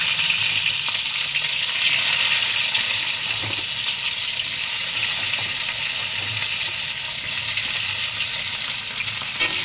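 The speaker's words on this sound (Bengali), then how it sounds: "এবার দেবো ক্যাপসিকামগুলো দিয়ে দেবো।" Capsicum pieces frying in plenty of hot, salted oil in a pan: a loud, continuous, close-up sizzle with a dense hiss, steady and unbroken throughout, with no voices.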